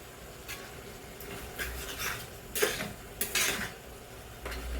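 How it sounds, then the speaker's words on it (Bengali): Metal spatula scraping and stirring tomato chutney with dates and sugar in a pan over a soft cooking hiss, with a few distinct clinks and scrapes spaced irregularly, fairly close but quiet. "চিনিটা দেওয়ার সাথে সাথে অনবরত এবার একটু খুন্তিটা নাড়তে হবে, খুন্তি দিয়ে"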